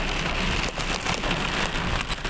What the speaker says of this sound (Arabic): طبعا الامطار بتشتد.